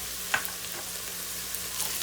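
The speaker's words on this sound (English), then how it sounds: "Give that a good stir." Prosciutto and sprigs of thyme, bay, oregano and rosemary sizzle softly in a soup pot for minestrone, with a faint scrape of stirring over the steady hiss.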